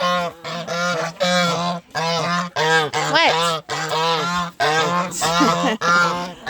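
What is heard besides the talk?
geese honking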